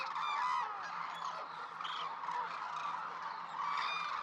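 Large flock of hooded cranes calling at their Izumi wintering ground in Kagoshima, Japan, a dense continuous chorus of honking, trumpeting cries at a moderate distance with no talk.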